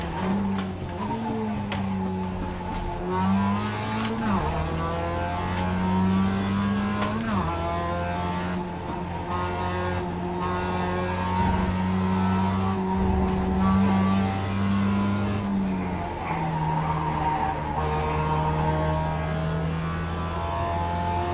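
Race car in a racing video game braking hard and downshifting into second gear, a loud continuous engine drone whose pitch drops in steps with each downshift, with tire noise and no talk throughout.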